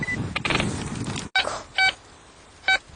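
A metal detector sounds over a small copper ring buried about 10–12 cm deep, giving two short, bright electronic beep bursts late in the clip after a stretch of rough scraping and handling noise.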